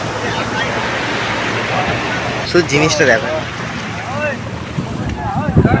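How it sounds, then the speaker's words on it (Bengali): Sea waves wash in close to the shore in a steady broad roar with wind buffeting the microphone, while a person talks over the surf. "কত সুন্দর ঢেউ চলছে দেখো"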